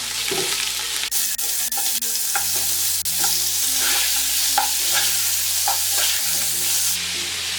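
Chicken pieces being stirred with ginger garlic paste in a hot pan for Arabic kabsa rice, a steady sizzle under repeated scraping and stirring strokes, close and fairly loud, with no talking.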